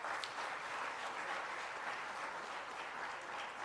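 Audience applause for Russell at a Cherokee speaker summit, a steady even wash of many hands clapping throughout, moderately distant and with no one speaking over it.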